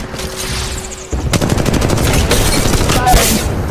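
Rapid automatic gunfire from the mobile battle-royale shooter Apex Legends Mobile, a quiet start breaking into sustained loud bursts of shots that continue to the end with game effects mixed in.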